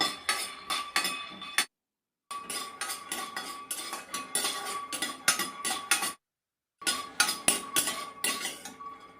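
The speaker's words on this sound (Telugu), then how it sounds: "ఈ రెసిపీ కోసం అయితే నేను ముందుగా 2 స్పూన్ల శనగ్గింజలు అయితే వేయించుకుంటున్నాను" Two spoons of peanuts dry-roasting in a kitchen pan, stirred so they rattle and scrape against the metal in busy bursts, broken by two brief silent gaps.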